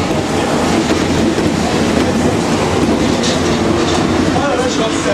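A Paris Metro line 11 MP59 rubber-tyred train runs through curves, a loud continuous rumbling roar with rattling and clattering from inside the carriage, steady throughout.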